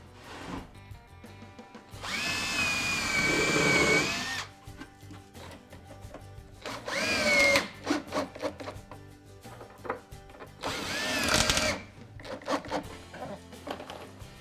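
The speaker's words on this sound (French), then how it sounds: "Donc un perçage légèrement en biais par rapport à la forme des côtés de la ruche kényane." A power drill bores angled holes into wood during construction of a Kenyan top-bar beehive, with three separate whining bursts: a long one first, then two shorter ones, separated by quiet handling noise.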